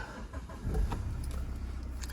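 A Mazda6 2.2 SKYACTIV-D diesel with a manual gearbox starts up: a short cranking thump, then the engine settles into a steady, close low rumble at idle.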